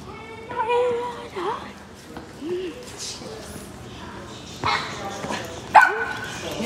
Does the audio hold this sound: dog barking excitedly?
yes